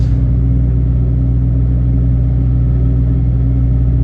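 A truck carrying 22 tonnes of meat pulls out on a country road near Ruiselede, Belgium, with a loud, steady low engine drone and rumble heard from inside the cab, continuous and without pauses.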